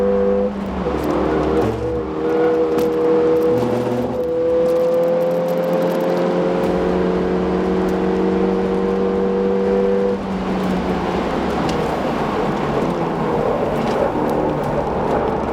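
Car lapping the Castle Combe circuit during a brake test, loud onboard engine drone with shifting gear-like tones and changing revs, continuous and close, without talking.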